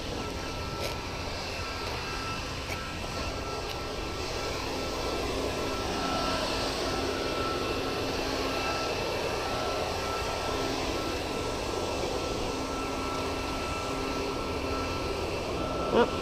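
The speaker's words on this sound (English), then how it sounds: "There's a guy over there leaf blowing" A leaf blower runs somewhere off across a curb strip, its steady airy drone holding constant and moderately distant for the whole stretch.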